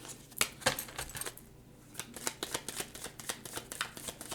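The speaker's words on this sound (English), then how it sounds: "Let's go one more shuffle." Tarot cards are shuffled by hand, quiet and close: a few sharp riffles, a short pause, then a run of rapid, rhythmic card slaps.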